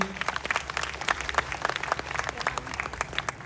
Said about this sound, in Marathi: त्यांसाठी जोरदार जोरदार टाळ्या झाल्या पाहिजे